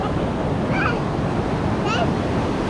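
Ocean waves at Kure Beach wash in a constant broadband roar with wind buffeting the microphone, loud and close, with faint children's squeals rising above the surf.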